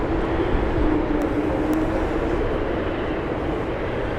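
A Loganair airliner on the Isle of Man route at Heathrow Airport gives a steady, loud jet roar with a low drone that stays constant throughout, heard with no talking.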